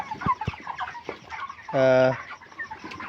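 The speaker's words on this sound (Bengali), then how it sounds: "পাঁচশো ব্রয়লার মুরগি" Broiler chickens on a poultry farm, about five hundred birds, give one loud, drawn-out squawk in the middle, with scattered clucks and farm noise around it.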